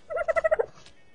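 A dodo in the video game Ark gives a short gobbling call, a quick run of about six clucking pulses, loud and close, then falls quiet.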